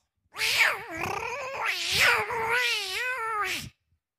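A human voice mimics a kitten, drawing out a long wavering meow with rising and falling pitch, loud and close, alone, on stage at a comedy show.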